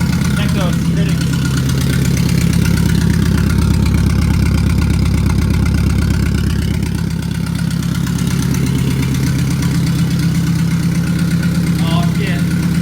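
A built Mazdaspeed 6 engine idles steadily just after its first start, a loud, continuous low rumble with slight vibration throughout, with people talking over it.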